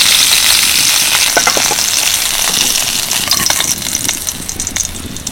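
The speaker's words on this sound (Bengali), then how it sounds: "একদম হালকা করে ফুলকপিগুলো ভেজে নিলাম" Steamed cauliflower fries lightly in hot white oil in a kadai, giving a loud, dense, continuous sizzle with scattered crackles that eases slightly toward the end.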